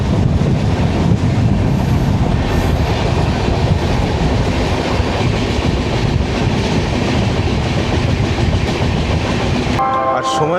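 Howrah–Balurghat Express rolling on rails after leaving Katwa Junction toward Azimganj, a loud, steady rumble and clatter of wheels filling the whole stretch before it drops off abruptly near the end.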